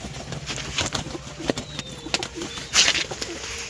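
Newly bought pigeons, including a white Mannar, give soft repeated cooing calls close by, along with light fluttering and scattered chirps.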